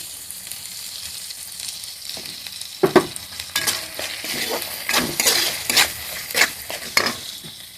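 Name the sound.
ghee sizzling in a pan with chillies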